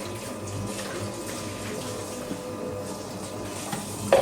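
A steady, quiet stream of water pours continuously for a few seconds into a mixer of Neapolitan pizza dough, with a faint clunk at the end.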